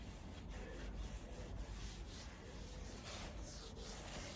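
A cloth rubs and buffs wax over a surface in a continuous, faint, close scrubbing hiss with soft rhythmic strokes and no voices.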